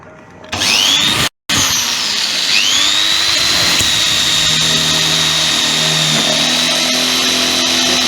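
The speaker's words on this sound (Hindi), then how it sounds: "उसके लिए एक मोटा ड्रिल बिट लिया है और इसको हम छेद कर देते हैं" An electric drill with a thick bit bores a hole in a plastic water tank. The motor spins up to a loud, steady whine, cuts out briefly, then keeps running with a grinding cutting sound and no voices.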